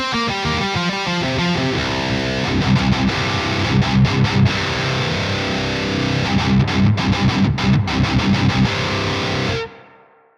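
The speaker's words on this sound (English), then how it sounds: "We took a listen to the reverb on a really heavy setting" A heavily distorted electric guitar plays through a Bogren BDM 410 amp with reverb set very high, sustained chords ringing loudly with a long wash, then cutting off and decaying near the end.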